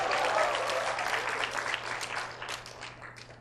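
An audience at a staff retreat applauds as a staff member is introduced, with steady, dense clapping that fades slightly toward the end.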